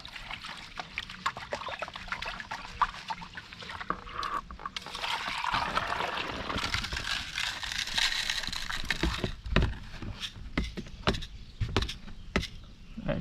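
River sample from buckets poured through a classifier into a gold pan, with trickling and splashing water mixed with gravelly rattles and scattered clicks, fairly quiet and close, no talking.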